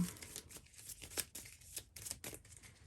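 A deck of board game cards being shuffled during a solo Forest Shuffle game, a quiet run of soft papery riffles and crisp flicks, close and faint, with no talking.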